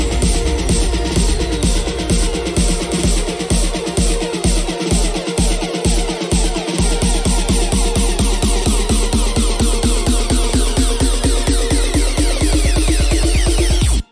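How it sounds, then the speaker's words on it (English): A dense electronic build-up in a dance track rises toward the drop, with percussion and drum hits that quicken into a rapid roll while sweeping tones climb overhead, loud and full throughout before stopping abruptly. "We also have these percussions and build up drums and stuff like that"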